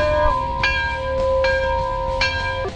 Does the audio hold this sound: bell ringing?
yes